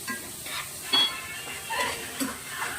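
Tomato roasting in a pan gives a soft, steady sizzle and hiss with a few quiet stirring scrapes, moderately close, no voices.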